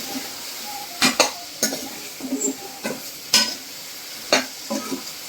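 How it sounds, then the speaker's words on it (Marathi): Eggplant being sautéed with red chili powder in a pan, with spatula scrapes and stirring clinks at irregular intervals against the pan over a faint background. "वांग पण असून छान त्याच्यामध्ये परतून घ्यायचे"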